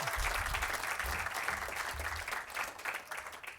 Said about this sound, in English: you can give an applause